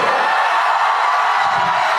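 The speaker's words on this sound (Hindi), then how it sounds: "एक बार जोरदार ताली बजा दीजिए खान सर के लिए" A large university audience at LPU applauding Khan Sir, a loud steady wash of clapping and crowd noise throughout, with faint cheers.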